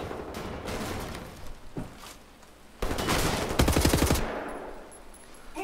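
Rapid machine-gun bursts and gunshots in Wolfenstein: The New Order, several fast volleys with a loud rattling burst near the end, then a fading tail.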